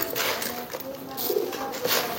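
A pigeon nesting on its first egg coos close by in low, repeated soft calls, with faint background noise and no clear talk.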